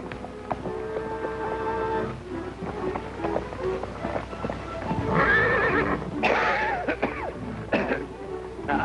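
A horse in a 1937 western film whinnies loudly in the second half, with hoof clops and rustling movement before and between the neighs, close and clear.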